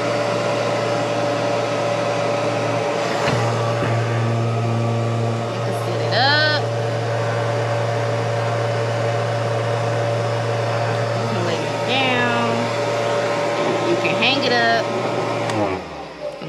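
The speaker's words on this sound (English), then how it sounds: "I like to call it hooded hair dryer" An Andis hooded bonnet hair dryer drones with a steady, loud mechanical hum and whoosh throughout, while a voice talks intermittently over it.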